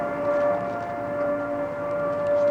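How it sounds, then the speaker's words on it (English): A steady civil defense siren over downtown Harrisburg, Pennsylvania, during the Three Mile Island nuclear accident holds a single sustained wailing tone, loud and continuous throughout with no voices. "As the governor waited to hear from Hendry, a siren blared across downtown Harrisburg."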